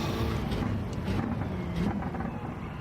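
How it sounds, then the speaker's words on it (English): A rotary-engined racing car, such as the Mazda 787B, races in a video game, its engine a steady, buzzing drone with a brief rise in pitch, heard alone. "that rotary engine"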